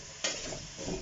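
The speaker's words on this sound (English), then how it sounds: "You're not going to let this fry too much, it's just really taking a brown it off a little." Ingredients for stovies being stirred and lightly browned in a pan, a brief scrape of a spoon followed by a steady soft sizzle, close and alone.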